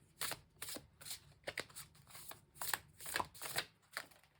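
Homemade blank cards being handled and shuffled, a series of quick, close, crisp riffling bursts in an irregular rhythm with short quiet gaps, alone and fairly soft.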